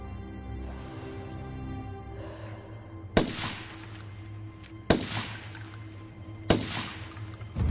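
Three sharp, loud gunshots ring out at roughly even intervals during an action scene from the film Rogue Warfare, each with a metallic ringing tail, following a quieter stretch of rumbling background.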